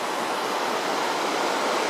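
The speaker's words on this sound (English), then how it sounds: "Beautiful waterfalls." Steady, dense rushing of water from Crayfish Falls on a paddling trip around Nootka, a continuous broadband roar that stays even and fairly loud throughout, with no voices.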